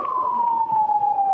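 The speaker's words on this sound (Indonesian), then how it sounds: "ini pemirsa sudah terdengar suara sirene ambulan" An ambulance siren wails in a single steady, slowly falling tone at an airport cargo area during the handover of a body, loud and continuous over faint background noise.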